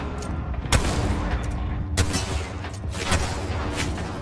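Several sharp gunshots from a sniper rifle in the video game Apex Legends crack over a busy battle backdrop, spaced about a second apart.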